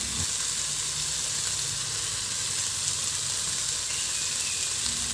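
Tomatoes going into a frying pan for a squid dish set off a constant, even sizzle and hiss of hot oil that holds steady throughout at close range, with no talking.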